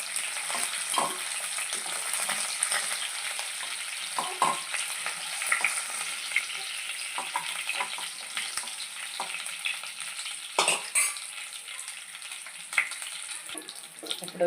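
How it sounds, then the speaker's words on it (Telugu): Onions and green chillies frying in hot oil, a steady close sizzle with crackling pops and occasional stirring scrapes throughout. "ఇప్పుడు అదే ఆయిల్లో ఉల్లిపాయలు పచ్చిమిరపకాయలు వేసేసుకొని వేసేసుకున్నామండి."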